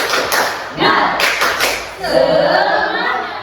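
A group claps together in a quick rhythmic burst, with voices chanting and cheering along, fairly loud and close.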